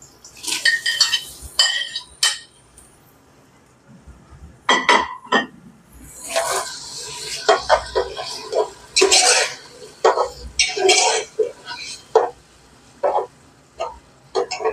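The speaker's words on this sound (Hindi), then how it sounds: "अब हम इसमें टमाटर ऐड कर रहे हैं। ये हमने 2 मीडियम किस्म के टमाटर लिए हुए थे, ये हमने इसमें अब डाल देते हैं।" Tomatoes are stirred into a cooking pot for nihari, with irregular metallic clinks and clanks of a spoon against the pot separated by quiet gaps.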